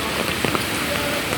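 Heavy rain falls on a street in Mumbai's Fort area, a dense, loud, continuous hiss of drops on the pavement with no pauses.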